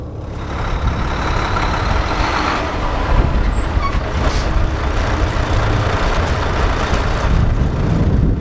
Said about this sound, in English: I'm then going to pull forward at 5 miles per hour and apply my service brake to ensure the vehicle stops without pulling to either side.